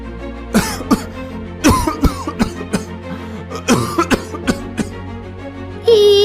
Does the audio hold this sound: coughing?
yes